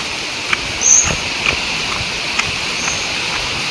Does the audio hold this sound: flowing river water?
yes